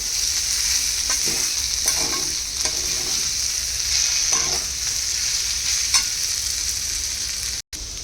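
Thin-sliced potatoes cooking in a pan, a close, steady sizzle with several scraping stirs and soft clinks, ending in a brief cut of silence.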